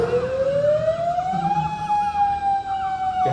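A warning siren wails at a beach, a single steady tone slowly rising then leveling off, moderately loud and continuous with faint background ambience.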